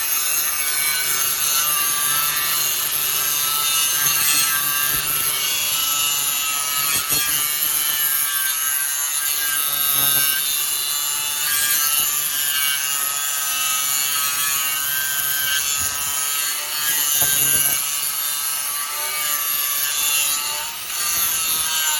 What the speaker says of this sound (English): This disc has an improved abrasive, as well as a new fiberglass backing with a new geometry to help get the disc further away from the grinder.